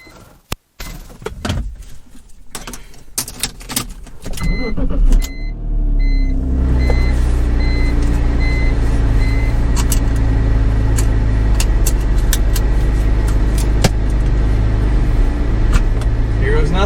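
A door thuds and keys rattle before the engine of a salvaged, totaled BMW E46 M3 project car fires up and settles into a loud, steady running drone, with voices in the car.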